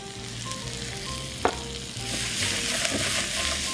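Mushrooms sizzle gently in plenty of oil in a pan, a steady frying hiss with a single sharp clack of a utensil partway through and no talking.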